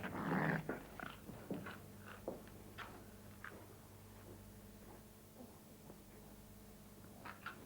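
A dog growls and snorts at close range, with a loud burst at the start followed by scattered snuffles, bites and chewing noises over a steady low hum in a quiet room.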